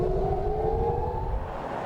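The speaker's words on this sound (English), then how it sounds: "In Israel's biggest city, sirens ordered a scramble for cover." An air raid siren wails over Tel Aviv during Hamas rocket fire, a loud, steady, slowly rising tone that carries across the city, heard at a distance without voices.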